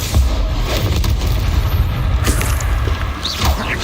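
A Confringo blasting spell cast in the video game Hogwarts Legacy, a loud sustained boom with crackling debris and rumble filling the whole moment, near and forceful.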